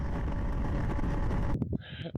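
Strong wind roars steadily across the microphone at dusk on the Fundy Trail in Nova Scotia, a loud continuous rush that suddenly drops away near the end, leaving brief gusts and a faint high whine.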